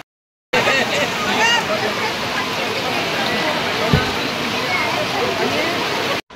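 Floodwater surges through a village fair on Bail Pola day, a loud continuous rushing roar with people's voices mixed in, ending abruptly.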